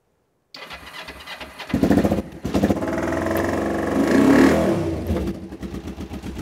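A Vespa scooter engine cranks and catches, then idles and revs up in a loud, close, buzzing surge before settling back, with no talking.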